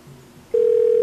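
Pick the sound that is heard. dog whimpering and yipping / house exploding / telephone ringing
telephone ringing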